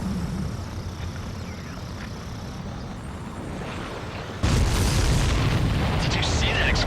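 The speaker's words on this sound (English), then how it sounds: "Did you see that explosion?" A supply ship explodes in the Ace Combat 7 air-combat game: a steady engine-like rumble under faint radio chatter suddenly jumps into a loud, broad blast that keeps roaring to the end.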